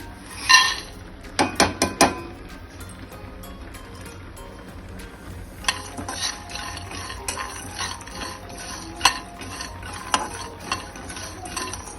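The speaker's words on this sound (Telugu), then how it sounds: "యాలకులు, లవంగాలు, దాల్చిన చెక్క, వేరుశనగ గుళ్ళు, కొబ్బరి, వెల్లుల్లి. వీటిని మసాలా దినుసులు అన్నిటిని దోరగా వేయించుకోవాలండి" Cardamom, cloves, cinnamon, peanuts, coconut and garlic dry-roasting in a pan, with rattling, clicking and scraping as the spices are stirred around, some sharp bursts early on and then steadier, close-up tossing.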